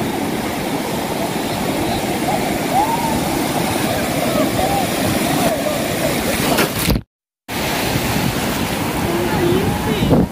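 Sea waves at Bakkhali beach roll in as a constant, loud wash of surf mixed with wind rumble on the microphone, broken by a short silent gap near the end.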